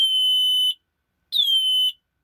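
Two piercing high-pitched electronic tones from a homemade sonic blaster circuit, each held steady for under a second, loud and close, with a short silent gap between them and a slight pitch dip at the start of the second.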